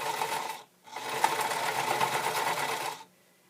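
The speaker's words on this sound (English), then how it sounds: "I'm going to stitch about 1/8 of an inch from the side down each side" A sewing machine stitches webbing for a camera strap, with two steady runs of rapid mechanical whirring separated by a brief pause.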